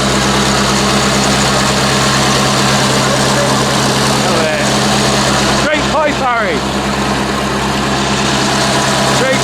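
A heavy old Massey Ferguson tractor engine at a tractor show auction runs steadily with a deep low rumble, loud and close, the revs rising briefly partway through while people talk nearby.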